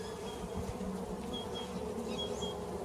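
Honeybees buzz steadily around an open nuc hive during an inspection, a soft continuous hum with occasional nearer individual bees.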